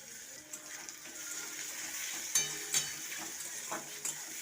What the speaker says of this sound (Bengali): চিংড়ি মাছটা দিয়ে একটু নাড়িয়ে দেবো চিংড়ি মাছটা হালকা ভাজা হয়ে গেছে